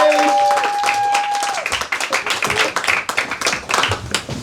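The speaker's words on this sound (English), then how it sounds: "Let's give them all the huge round of applause to make the way back off the stage." Lively audience clapping and applause at a London comedy show as comedians leave the stage, dense claps continuing strongly after a brief tonal sound fades at the start.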